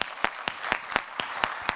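Applause in a studio interview setting, heard as sharp, evenly spaced individual claps at a moderate distance, about one every quarter second, with no voices over them.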